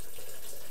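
Boiled kettle water pours steadily into a beer kit can, a continuous close hissing splash with no pauses.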